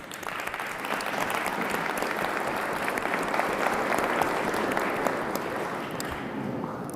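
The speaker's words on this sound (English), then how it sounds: "maybe we could give them a round of applause." Conference audience applauds the organizing team at the 53rd Washington Conference on the Americas, a steady roomful of clapping that holds at an even level for the whole stretch, fading slightly toward the end.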